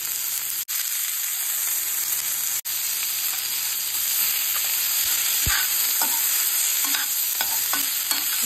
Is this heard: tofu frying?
yes